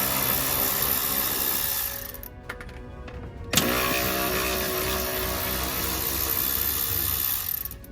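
A power tool whirs steadily up close while backing out two 8mm screws, dropping out briefly midway before starting again with a jolt and running on continuously.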